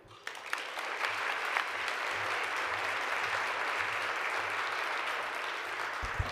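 An audience applauds a group of researchers at a forum on research and advocacy, with sustained clapping at a steady level throughout.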